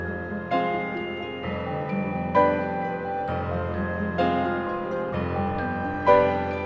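Bright plucked harp and bell-like celesta tones ring together over sustained piano chords, gentle accents recurring roughly every second or two; celesta panned right, piano centered, with a wide open stereo image.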